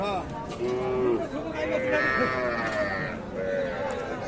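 Cows and calves at a busy cattle market where cows with calves are sold, lowing repeatedly, some long moos and higher bleat-like calls, close and loud over a constant crowd murmur with people talking.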